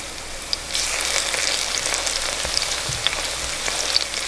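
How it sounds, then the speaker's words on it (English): White onions in grapeseed oil sizzle steadily in a pan on a stovetop, a fairly quiet continuous crackle with a few small pops and no voices. "I can hear the white onions on the stove getting a little hot"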